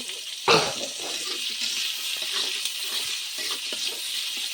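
Onion and masala frying in oil for a spicy chicken curry, a continuous hiss of sizzling with soft scraping as the spoon stirs, after one sharp clank near the start.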